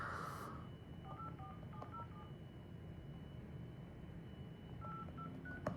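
A telephone number is dialed during a live real estate cold call, a quick run of faint touch-tone beeps, a pause, then another short burst of tones, all quiet with no talking.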